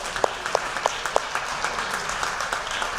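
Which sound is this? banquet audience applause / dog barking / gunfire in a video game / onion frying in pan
banquet audience applause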